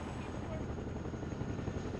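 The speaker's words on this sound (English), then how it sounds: "that latest chopper just landed." A helicopter lands during a California wildfire rescue, its rotor a loud, steady broadband roar and rumble that fills the whole moment with no break.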